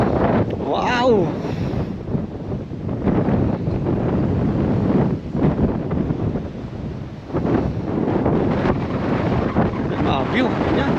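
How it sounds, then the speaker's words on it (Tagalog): Strong wind buffets the microphone at a hilltop viewpoint in Mount Douglas Park, Victoria BC, roaring in loud, gusty waves with brief lulls, while a voice briefly exclaims near the start. "Grabe, lakas ang hangin."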